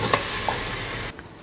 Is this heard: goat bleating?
no